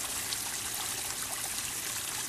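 A quiet, steady trickle of water poured gently into a plastic bag holding goldfish and koi, continuing without pause and with no voices.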